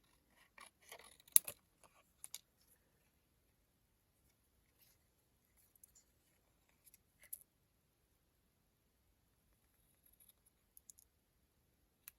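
Scissors snip through a recycled cardboard toilet paper roll for a junk journal embellishment, giving a few faint, sparse cuts and clicks scattered through quiet stretches.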